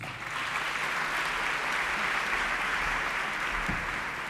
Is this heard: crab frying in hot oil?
no